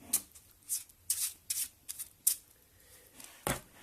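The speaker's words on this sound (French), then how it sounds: "Et tout ça, on va le mélanger avec les cartes dans 2 sens différents." Playing cards shuffled in two directions during a magic trick, heard as several short, crisp papery riffs spaced by pauses and ending in one sharper burst, close by with no talk.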